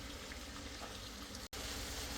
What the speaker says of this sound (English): While that is sauteing, just frying, I'm going to add my garlic and my ginger paste.